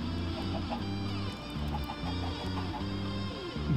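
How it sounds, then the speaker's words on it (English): Minecraft chickens cluck in short repeated bursts while laying eggs, a rhythmic game-style clucking loop that sits close and clear over a faint background hum. "the sound that the chickens make when they pop the eggs out"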